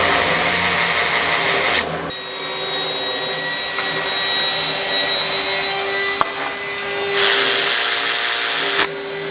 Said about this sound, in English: If you're using an electric ratchet, always go back with it and make sure they're tight with a hand ratchet.